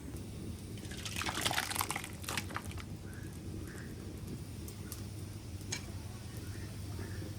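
A pot of potato curry with catla fish head bubbles and plops softly and continuously, with small irregular pops over a low background hiss, heard nearby.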